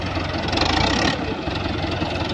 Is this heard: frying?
no